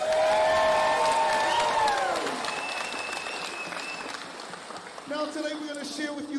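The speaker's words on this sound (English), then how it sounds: "Ladies and gentlemen, round of applause all around all our people back at home" A festival crowd at an outdoor entertainment stage applauds and cheers, with whoops and voices rising over the claps, then the ovation thins and a voice carries on over lighter clapping.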